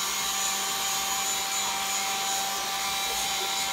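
Air blower drying a dog after a bath, a steady, loud, unbroken whooshing roar close by, running throughout without pauses or speech.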